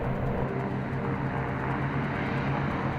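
B-29 bomber aircraft taking off with dummy bombs over the desert, a loud, steady propeller-engine roar filling the whole stretch with a constant low drone.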